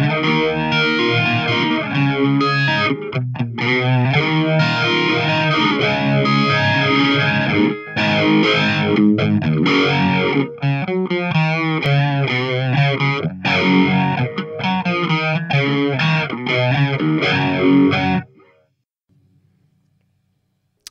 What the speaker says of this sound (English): Next, we have the vibe. It's supposed to sound like a univibe, I suppose.